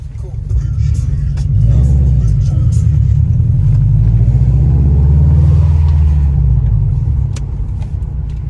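Subaru WRX exhaust with an Invidia catless downpipe rumbles loudly and steadily at idle, swelling slightly in the middle, with talk nearby over the engine.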